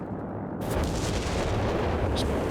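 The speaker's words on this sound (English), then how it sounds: "that's one of the advantages of mechanized, that zeroing artillery" Zeroing artillery barrage in Company of Heroes 3, a dense continuous rumble of distant shell impacts and booms rolling on without a break, loud and unbroken.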